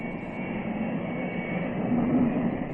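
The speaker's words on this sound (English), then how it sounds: "A helicopter gives a bird's eye view as the jets form up for takeoff" Sea Venom jets of an aerobatic team forming up for takeoff give off a steady, loud, broad engine roar with a whining tone that swells slightly toward the end.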